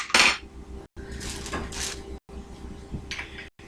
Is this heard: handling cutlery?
yes